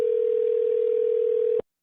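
A telephone dial tone plays as a call is placed, one steady continuous tone that holds loud and clear, then cuts off abruptly near the end, with no voice.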